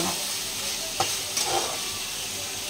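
Meat cooking in a pan in a home kitchen, a steady sizzling hiss with a couple of scraping stir sounds, close and moderately loud.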